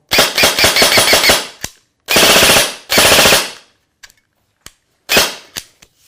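A G&G M4 Predator (GC16) airsoft rifle with an electronic trigger fires loud, close bursts: a rapid string of shots, then two short volleys, a few single clicks, and a final quick burst.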